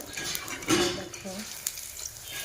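Banana fritters bubble and sizzle in hot oil, a steady close frying hiss with a few light clinks of a utensil against the pan.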